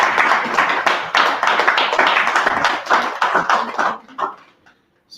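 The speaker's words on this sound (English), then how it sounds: "Can we jump in a round of applause to management?" An audience breaks into a loud round of applause, dense clapping from many hands that fades and trails off into scattered claps.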